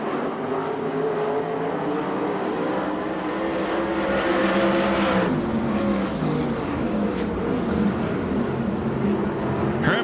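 USAC/CRA sprint cars race at Perris in a continuous, loud engine roar whose pitch rises and falls as the cars pass, with no talk over it.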